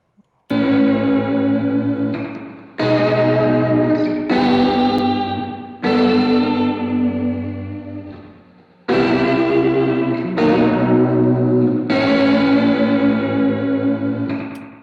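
Electric guitar chords drenched in distortion, chorus and echo, played as several long sustained strums that ring out one after another.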